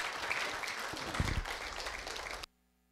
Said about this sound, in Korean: 큰 환영의 박수 부탁드립니다